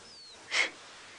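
A single short, breathy sneeze or snort sounds nearby, brief and soft against quiet background hiss.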